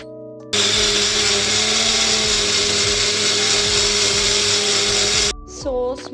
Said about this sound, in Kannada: ನಾನು ಕುಕ್ವೆಲ್ ಬ್ಲೆಂಡರ್ ತೊಗೊಂಡು ಯೂಸ್ ಮಾಡತ್ತೀನಿ